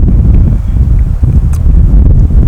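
Strong, cold wind near sunset buffets the microphone with a loud, continuous low roar and gusting rumble.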